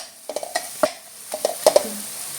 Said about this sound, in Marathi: थोडीशी हळद परतून घेऊया थोडं तेलामध्ये